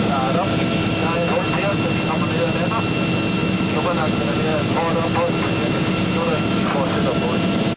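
Loud, constant engine and rotor roar from inside a helicopter in flight, with a voice talking underneath the drone.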